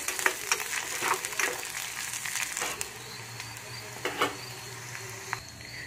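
A coriander spice mixture is stirred and fried in a pan, giving a quiet sizzle with irregular scraping and tapping strokes.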